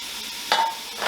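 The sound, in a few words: Trinity vegetables sizzling as added to hot pot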